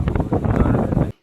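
Strong wind gusts outdoors buffet the microphone in a dense, rumbling roar for about a second before cutting off abruptly into silence.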